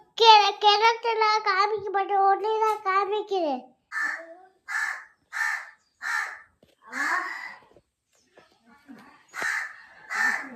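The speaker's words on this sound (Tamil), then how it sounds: "காக்கா" Crows caw in a rural home setting, a run of rapid harsh caws opening loudly up close, then separate spaced calls repeating roughly every second, with no other sounds between.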